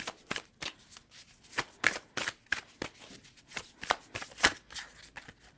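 An Animal Spirit oracle card deck being shuffled by hand, a run of crisp riffling card flicks in a steady rhythm, close and clear with no talking.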